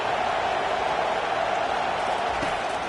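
A college football video game stadium crowd, Tennessee against LSU, roars as a dense, steady wash of noise at a constant moderate level with no breaks.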